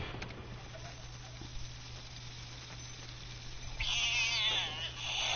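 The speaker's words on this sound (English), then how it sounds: "Gotta have the cat." Cat in the video game Fallout 76, a steady low hum at first, then a loud, drawn-out meow near the end that rises and wavers before trailing off.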